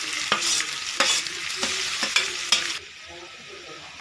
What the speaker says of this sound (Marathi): हा ठेचा टाकणार आहोत आणि हे बटाटे मॅश केलेले टाकणार आहोत.